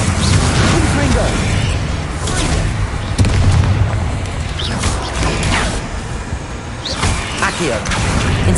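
Spell combat in Hogwarts Legacy with the Confringo blast, a rumbling run of deep booms, creaks and mechanical clatter staying loud throughout, with a voice over the noise.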